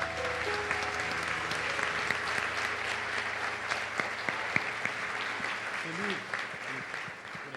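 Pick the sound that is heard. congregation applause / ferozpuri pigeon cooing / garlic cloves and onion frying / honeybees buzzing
congregation applause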